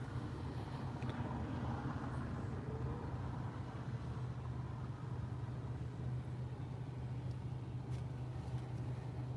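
Car traffic on the Champs-Élysées in Paris hums as a steady, distant low rumble of engines and tyres, continuous and faint with no clear voices.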